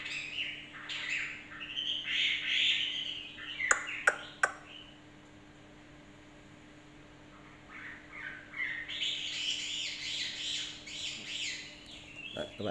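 A hwamei songbird sings in bright, warbling phrases that come in two bursts with a quiet gap between, and a few sharp clicks fall in the middle.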